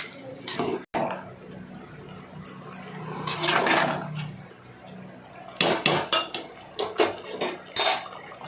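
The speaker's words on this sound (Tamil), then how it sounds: "இதை அப்படியே வந்து மூடி போட்டு சிம்மில் வச்சுருங்க." Metal clinks and clatters of a lid and pot of chicken biryani rice being handled, several sharp knocks and scraping clanks close by, with bursts of rattling between quieter moments.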